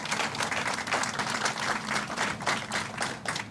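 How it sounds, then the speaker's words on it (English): Audience applauding Sean Mcintyre at an outdoor historical plaza unveiling, steady broadband clapping from a crowd with a few louder bursts, sustained through the whole stretch. "let's give Sean another round of applause"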